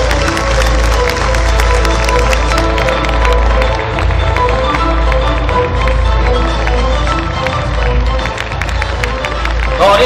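An audience at an award ceremony honouring sports veterans in Tabriz breaks into hearty, sustained applause, loud and dense, with crowd murmur mixed in throughout.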